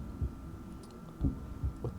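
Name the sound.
heartbeat sound effect in golf video game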